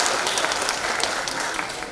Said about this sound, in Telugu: అందరూ కూడా చప్పట్లు కొట్టి అభినందన తెలియజేస్తా